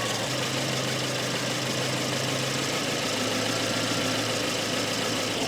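Volvo 244 engine idling steadily after a tune-up with the idle raised, a constant near mechanical hum and a low drone that lifts slightly partway through, with no voices.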